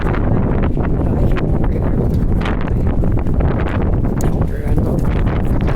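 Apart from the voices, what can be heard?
strong wind outdoors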